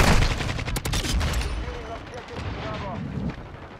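Gunfire in a shooter video game, with a rapid burst of loud, dense shots that gives way to a lower rumbling din, while a player talks over it.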